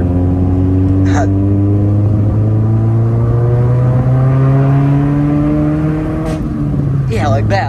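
A 2019 Subaru Impreza with a resonator-delete exhaust and 5-inch axle-back, engine floored: a loud, close rising drone climbing steadily for several seconds, then a sharp drop and burble as revs fall, with brief voices in the background.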